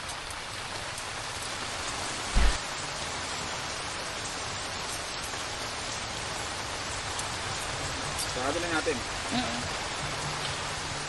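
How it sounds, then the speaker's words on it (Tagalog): Steady rain pours onto a camp shelter at a campsite in Antipolo, a constant hiss with a few louder drops, while a brief voice and some soft talk come in under it. "Kailangan na namin isarado kasi pinapasok din pala kami ng ulan, yung anggi ng ulan"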